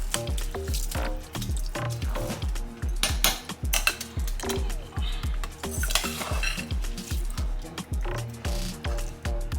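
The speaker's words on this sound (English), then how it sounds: "I rinsed the rice very well, and now I'm adding it to the sauce." Rinsed long grain rice stirred into jollof sauce in a pot, with a steady rhythm of metal spoon clinks and scrapes against the pot over wet squishing and a faint sizzle.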